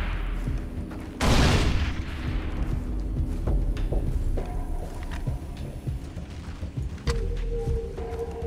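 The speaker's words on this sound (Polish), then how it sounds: "Ja tam porzucam im troszeczkę tych takich fajnych piłeczek, co wybuchają." Explosive balls blowing up in Far Cry 3: a loud booming blast early on, followed by scattered gunfire-like pops, cracks and game ambience over several seconds, with no talk.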